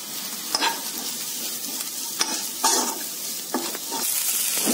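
Okra stir-frying in a pan with chili powder and a pinch of pepper powder: a steady close sizzle broken by repeated scraping stirs of a utensil against the pan, with no talking.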